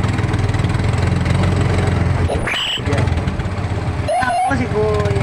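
Kawasaki Barako tricycle motorcycle engine running steadily at a close, low chug throughout, with people talking over it partway through.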